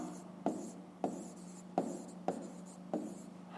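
Handwriting on paper while working a fifth-grade maths exercise, five distinct pen taps and short scratching strokes spaced evenly, close and quiet over a steady low hum.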